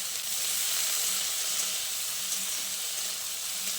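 Chili, tomato and onion fry in a pan, giving a steady, even sizzling hiss that fills the whole moment with no talking.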